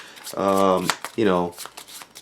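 Playing cards for the Tiny Epic Defenders board game are shuffled close up, two quick riffling bursts, each followed by the softer tap of the deck being squared.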